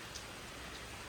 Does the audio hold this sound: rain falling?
yes